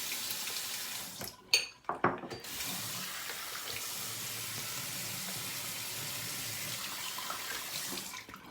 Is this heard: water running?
yes